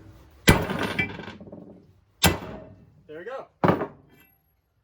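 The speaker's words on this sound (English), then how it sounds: "we'll get a hammer on it and start punching" Two sharp metallic hammer strikes on a punch against a Harley flathead engine crankcase ring out with pauses between them, then a brief spoken phrase and another strike close by.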